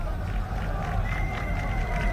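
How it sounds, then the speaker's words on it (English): A joyful Indian section of the crowd at a 1983 World Cup cricket semi-final against England, a continuous distant roar of cheering and crowd noise with faint clapping in the mix. "Joyful Indian section of the crowd"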